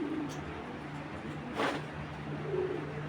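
Racing pigeons of a foreign bloodline cooing softly and briefly amid a steady low hum, with one short, slightly louder burst near the middle.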